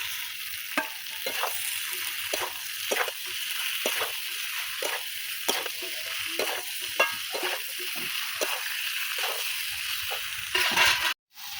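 Jackfruit and potatoes, seasoned with salt and turmeric, sizzle in a pan while a spatula stirs and scrapes them, giving repeated scraping clacks over a constant frying hiss, ending with a sharp clatter.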